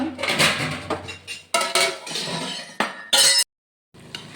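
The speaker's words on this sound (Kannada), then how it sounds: "ಅದಕ್ಕೆ ಮುಚ್ಚಳವನ್ನು ಮುಚ್ಚಿಡುವ." Metal cooking vessels clank and clink in a kitchen while Mangalorean chicken sukka is being made, a few sharp, close knocks ending in a bright clatter as a lid goes onto a pot.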